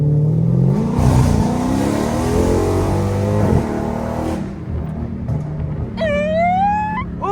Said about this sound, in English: Cause I know Whipple don't whine as loud as the damn Hellcat supercharger